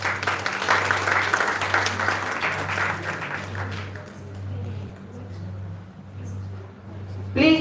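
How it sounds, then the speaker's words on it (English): Conference audience applause for an attendee collecting a certificate at the ICAMC Conference 2025, a steady wash of clapping over a constant low hum that thins out halfway through, leaving faint room noise. "A big round of applause, everyone."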